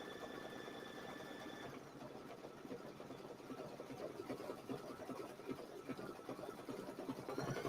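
Embroidery machine working a blanket stitch on a split-hooped quilt wall hanging, a steady mechanical whirring hum with rapid needle ticks running continuously, close and moderately quiet throughout.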